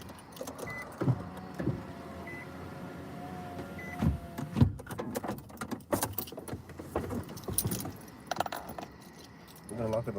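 Car door and keys jangling as someone gets out of a car, with metallic clinks and thumps scattered over a steady background, while people talk nearby.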